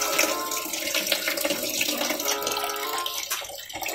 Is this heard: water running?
yes